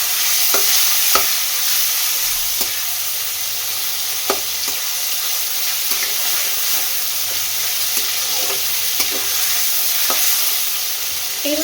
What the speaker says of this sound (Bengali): এটাকে হালকা করে একটু প্রথমে ভেজে নেব।